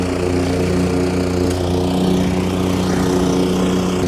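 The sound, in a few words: lawn mower sucking up aeration plugs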